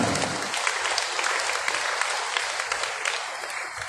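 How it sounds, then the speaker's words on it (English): Loud, continuous round of applause from a crowd of parents and guardians at a community youth celebration program, a dense steady wash of clapping with no talk over it. "we give them a loud round of applause"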